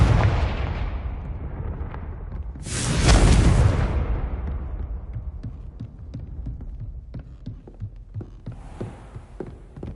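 Confringo explosion spell in Hogwarts Legacy: a loud whooshing blast about a third of the way in, rumbling off into low booms and crackles, with a second softer burst near the end.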